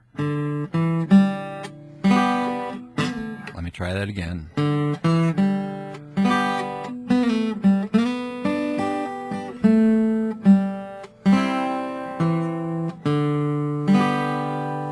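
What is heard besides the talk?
acoustic guitar playing gospel solo phrase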